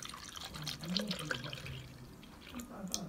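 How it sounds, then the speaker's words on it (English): Milk is poured for an Oreo milkshake, a soft continuous liquid stream heard close but faint, with a person speaking quietly over it. "So first you have to pour the milk."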